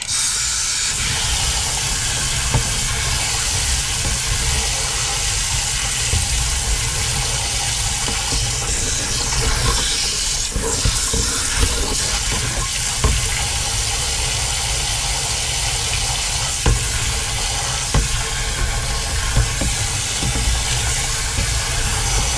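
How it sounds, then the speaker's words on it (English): Water rushes steadily through a motorhome waste water tank being flushed out, a loud, continuous hissing gush with small splashes and gurgles, no speech over it. "Right, let's give it another flush."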